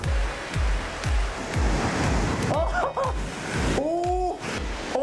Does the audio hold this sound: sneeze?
no